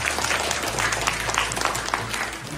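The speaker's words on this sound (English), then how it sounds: "Please, everyone, give Karen a big round of applause." A crowd applauds at a Christmas party venue, steady dense clapping throughout with a low hum underneath.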